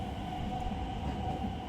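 A train runs steadily and close through Japan on the line near Himeji, a continuous low rumble with a faint high whine and no distinct clatter, with no talking over it.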